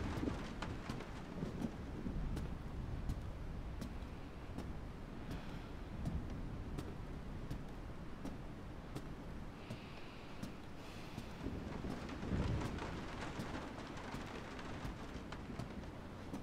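Thunder rumbles through a storm in the video game Resident Evil 7, a low continuous roll that swells and fades, with faint rain and wind-like noise throughout.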